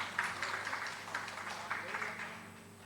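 An audience at a televised health conclave applauds a doctor, steady moderate clapping from a crowd with a voice heard over it.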